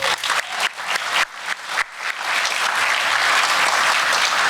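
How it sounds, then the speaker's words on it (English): Audience at a Nova Ukraine 10-year anniversary gala begins applauding with a few separate, sharp claps, then swells into a dense, loud, sustained round of clapping from the whole room. "Another round of applause for Nick Bilohorsky."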